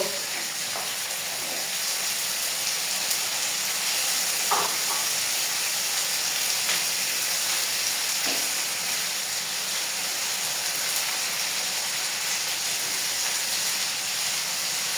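Onions frying in oil in a pot before mutton goes in for kosha, a steady soft hiss and sizzle running the whole time with a few faint clinks, no voices.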